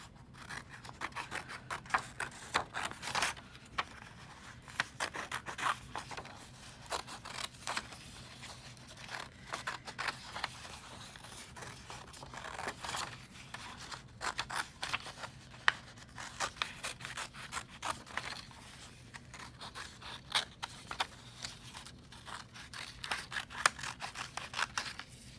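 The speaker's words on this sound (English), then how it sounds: "we want to cut on that line that we just made, making one big cut" Scissors cutting along a drawn line on paper during a children's art lesson, with quiet, repeated snips and rustles in an uneven rhythm, close but faint.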